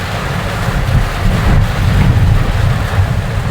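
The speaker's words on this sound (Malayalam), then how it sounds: "നല്ല മഴ, പെരുമഴ, പെട്ടെന്നൊരു മഴ" Sudden heavy rain pours down in a loud, dense roar with gusty low rumbling, steady and close for the whole stretch.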